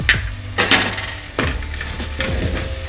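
Green chillies cut into medium pieces drop into ginger-garlic paste in a hot pan and sizzle, with a few stirring clatters and utensil knocks over a steady frying hiss.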